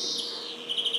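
A songbird kept by Istanbul bird fanciers sings the canalya phrase, a short, faint, high trilling run that ends in a quick series of repeated chirps.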